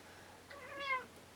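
A cat gives one drawn-out, complaining meow, close and clear over a quiet room after being moved off a computer keyboard.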